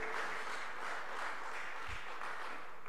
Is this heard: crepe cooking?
no